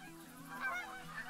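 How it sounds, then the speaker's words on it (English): A flock of geese honks in theHunter: Call of the Wild, landing at decoys during a goose hunt; overlapping calls come from middle distance against a steady ambient bed. "it sounds like there's a flock of geese actually landed here at my decoys"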